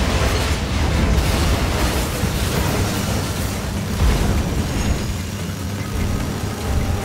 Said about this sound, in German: Gatling-Kanone.